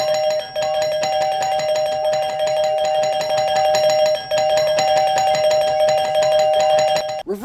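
An electronic doorbell chime rings loudly and continuously, with two brief breaks, and stops abruptly at the end. No one speaks.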